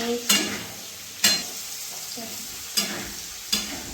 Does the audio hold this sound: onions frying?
yes